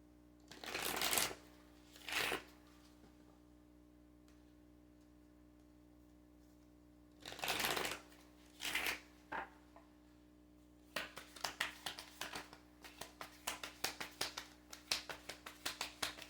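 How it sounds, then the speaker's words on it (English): Kali oracle cards shuffled by hand, heard as two soft bursts of riffling followed by a longer run of quick, crisp card flicks, close and quiet against a faint steady hum, with no speech. "I'm going to pull some Kali cards."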